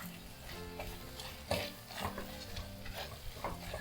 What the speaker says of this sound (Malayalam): ഇത് ഒന്ന് ഇതിൻ്റെ പച്ചമണം ഒന്ന് പോകുന്നത് വരെ വഴറ്റി കൊടുക്കാം.